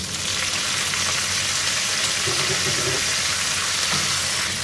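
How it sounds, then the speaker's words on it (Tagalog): Soy sauce is poured into a hot pan with garlic and ginger, producing a loud, continuous broadband sizzle that holds steady throughout, with faint stirring underneath. "Lagyan na natin ito. Soy sauce."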